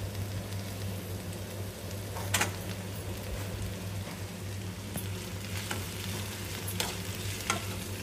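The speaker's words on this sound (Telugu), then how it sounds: "మిక్స్ చేసుకోవాలి మంచిగా. టొమాటో కూడా వేసుకోవాలి దాంట్లోకి." Chopped tomatoes being stirred into a curry frying in a pan: a steady, close sizzle under a low hum, with occasional sharp scraping clicks from the stirring and no talking.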